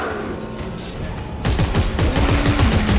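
Gunfire in the co-op shooter game Dead Space 3: quiet at first, then from about halfway a loud burst of rapid, closely spaced shots that continues to the end.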